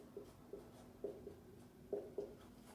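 A Chinese character is written by hand: a few soft, faint taps and short strokes of a pen on paper, spaced irregularly in a quiet room.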